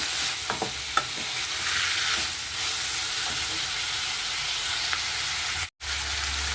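Capsicum sizzles steadily as it fries in a pan, with a constant hiss and soft scraping clicks from occasional stirring. A brief cut to silence comes near the end before the sizzle resumes.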